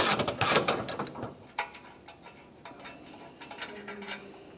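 A ratchet with a 12mm socket on an extension loosening an EGR tube bolt on a 2006-2011 Honda Civic, giving sharp clicking bursts early, then fainter scattered ratcheting clicks and a clunk.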